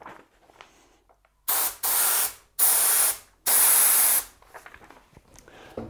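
A paint spray gun hisses out in three long, loud bursts of steady spray separated by brief pauses, with quieter room noise before and after.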